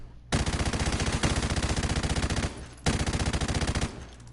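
Sustained automatic fire from a SAW light machine gun in Modern Warfare Remastered, two long loud bursts of rapid, even shots separated by a brief pause, close and dominant with no talking.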